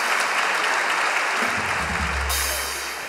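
An audience claps and cheers steadily, a low rumble rising midway and the clapping thinning slightly toward the end.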